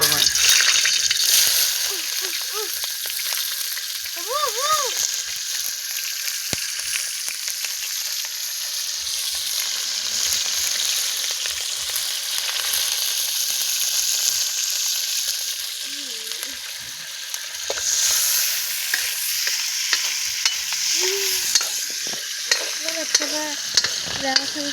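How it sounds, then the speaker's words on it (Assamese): Dal sizzles and fries steadily in a hot pan in a home kitchen, a continuous broadband hiss with occasional stirring clinks and brief faint voices in the background. "ফাইনেলি জুইও উঠিল, এফালে দালিও বহাই দিছোঁ।"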